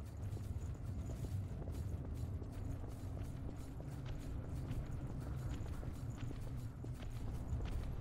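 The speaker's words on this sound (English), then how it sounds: "I can hear footsteps." Footsteps in the video game Code Vein sound as a steady, faint, rhythmic clatter of steps under low, rumbling game ambience, with no talk over them.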